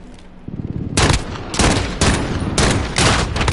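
Gunfire from a gun in Call of Duty, starting with a softer rattle and then turning into a string of loud, close bursts about every half second, with no one talking.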